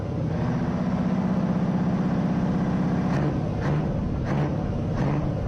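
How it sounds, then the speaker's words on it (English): An IVECO V8 truck engine with open pipes idles steadily, a loud, continuous low rumble with a throbbing pulse that stays constant throughout. "And it's got such a great idle."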